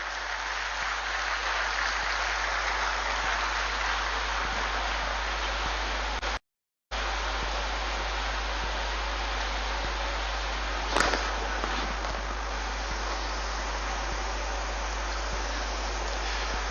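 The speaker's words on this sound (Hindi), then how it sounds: "आपके अभिभाषण के लिए जोरदार तालियों के साथ स्वागत करें" An audience at a government foundation-stone and inauguration ceremony in Chaibasa, Jharkhand, applauds to welcome a state minister, a steady wash of distant crowd clapping that goes on throughout with one brief dropout.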